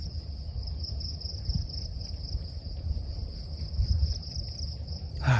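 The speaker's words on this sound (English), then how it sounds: "The crickets." A steady, high-pitched chorus of crickets trills continuously outdoors on Koh Phi Phi, Thailand, over quiet, low background ambience.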